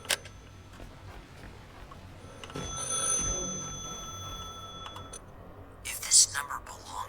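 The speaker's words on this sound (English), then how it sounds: "Oh, I hear a phone ringing." Telephone ringing in The Last Caretaker video game, a thin tonal ring heard at a distance under faint ambient noise, with a brief sharper electronic chirp near the end.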